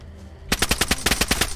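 Rapid automatic gunfire in the video game DayZ bursts in after a brief quiet lead-in, a loud string of about ten evenly spaced shots with no talking.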